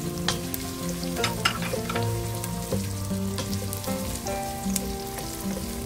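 Chopped onions frying in a pan as the base for ox tripe soup, with a steady close sizzle and scraping stir strokes throughout, no voices.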